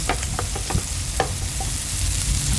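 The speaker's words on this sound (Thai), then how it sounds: "นี่เขาก็ลงเครื่องไปเลย ไปผัดร่วมกัน" Vegetarian tofu with shiitake mushrooms stir-frying in a pan, a steady sizzle with a low rumble beneath and several quick scraping spatula strokes, close and without speech.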